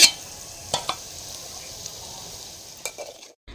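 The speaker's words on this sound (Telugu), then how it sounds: "ఇప్పుడు దొండకాయ ముక్కలు వేసుకుని మగ్గించుకుందాము" Ivy gourd pieces and onions sizzle softly in a pan as a utensil stirs them, with a few scraping clinks against the metal and a quiet frying hiss in between.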